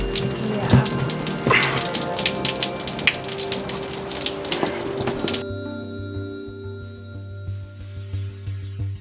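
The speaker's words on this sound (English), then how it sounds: "And it's fucking raining." Rain pattering densely on a surface in Las Vegas, with scattered sharp drops, loud and close; it cuts off midway to a quieter, muffled hum with faint ticking.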